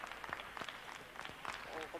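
Audience hand clapping in an Andalusian palmas style at a 1990 European Championships rhythmic gymnastics team event, sharp repeated claps in a loose rhythm through a crowded hall, with a commentator talking over it.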